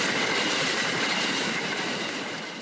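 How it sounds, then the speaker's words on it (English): A long freight train with dark, graffiti-marked wagons rolls past a rural Australian rail crossing, a loud, steady rumble and clatter of wheels that holds close throughout and eases slightly at the end, with no voices. "a freight train passes, the wagons dark except for graffiti"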